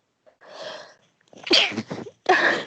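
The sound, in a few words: sneeze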